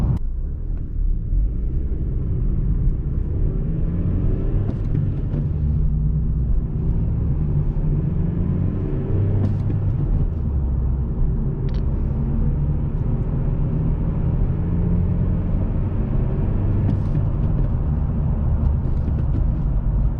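A 2006 Honda Civic heard from inside on the move, with a steady low engine drone and road rumble throughout, occasional faint clicks and rattles, and no talking.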